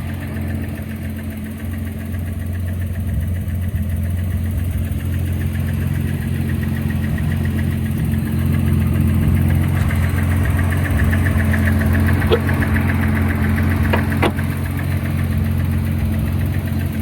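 A 1976 Datsun 280Z engine idles steadily for the whole stretch, a low rumbling hum with a faint ticking rhythm and no voices.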